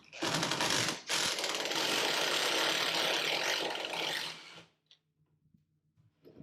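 Power tool removing skid plate bolts on a Polaris General belly, a loud continuous whirring burst of about a second, brief pause, then a steady run for several more seconds before cutting off to near silence with faint clicks.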